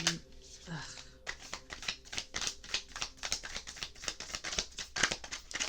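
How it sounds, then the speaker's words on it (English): Tarot cards are shuffled in a quick flurry of riffling snaps, repeated close up, with a brief voice at the start. "I just want to shuffle in peace."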